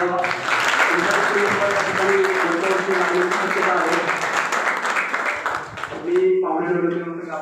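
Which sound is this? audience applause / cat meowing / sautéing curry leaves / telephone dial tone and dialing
audience applause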